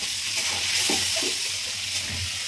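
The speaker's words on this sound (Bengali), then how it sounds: "এখন চিংড়ি মাছটা খুব ভালো করে ভাজা হচ্ছে" Prawns crackle in hot oil in a pan, a continuous close sizzle with a couple of soft scraping stirs partway through and no talking.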